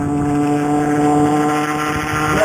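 A small engine runs flat out at full throttle, a loud, steady, close drone with a strong harmonic whine that holds constant throughout, no voices heard.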